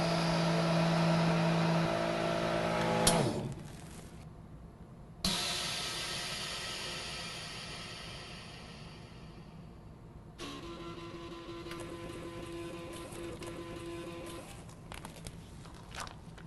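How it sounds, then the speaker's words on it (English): A vacuum packing machine closes its lid and runs a steady humming pump, then stops with a hiss of released air. The machine restarts with a quieter hum and a few small clicks, and no voices are heard. "As I close down the vacuum machine now"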